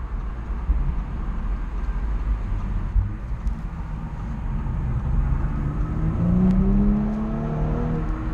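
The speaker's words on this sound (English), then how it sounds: "I can move this gear selector into the right, so it's in a manual mode, and then I can downshift." Engine of a 2018 Audi S5 Cabriolet rising in pitch as it revs on a manual downshift, a steady loud drone climbing toward the end with a smooth rising whine, close and without talk.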